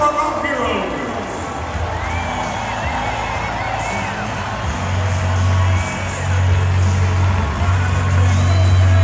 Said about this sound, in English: please give a round of applause in honor of our heroes